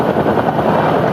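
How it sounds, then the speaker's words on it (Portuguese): An armored police helicopter during a joint civil and military police operation in the Complexo da Maré, Rio de Janeiro, gives a loud, steady rotor chop and engine roar close overhead, alone with no talk. "Um helicóptero blindado participou da ação."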